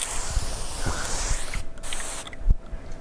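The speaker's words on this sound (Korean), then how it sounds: "이거 하는데 분무가 이렇게 아주 곱게 나와요." A spray bottle mists water in a fine hiss during window tint re-installation on a Lamborghini Urus, with soft handling bumps near the end.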